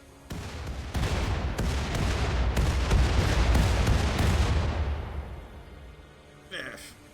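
Gunfire and laser weapons in the video game RimWorld come as a loud burst of dense, rattling shots that sustain for several seconds, then fade out, followed by a brief electronic tone.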